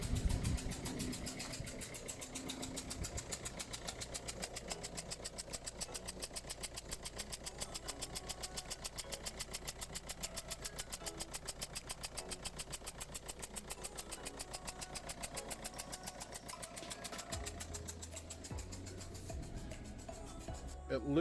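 A car engine idles steadily with a rapid, even ticking from a noisy fuel injector, close and continuous throughout, with a brief shift in the low rumble near the end.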